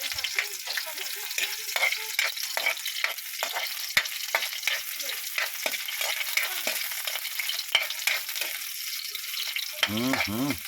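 Chopped onion sautéing in a hot pan, with a steady sizzle broken by repeated scraping stirs, and a short stretch of voice near the end.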